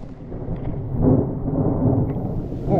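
Thunder from a lightning storm rolls on as a loud, steady, low rumble with no break. It swells slightly partway through.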